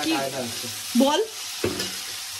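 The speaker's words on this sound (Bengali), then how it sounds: "আলু পেঁয়াজ কুলি ভাজার প্রিপারেশন হচ্ছে" Potatoes and onions frying in oil previously used for fish, with a soft continuous sizzle and occasional stirring beneath a close voice talking.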